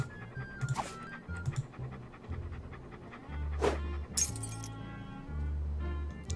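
A dog pants in Monkey Island 2: Special Edition, rhythmic quick breaths repeating at low level, with brief glassy clinks and chimes over them.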